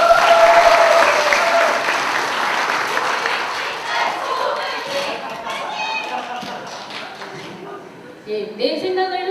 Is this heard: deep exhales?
no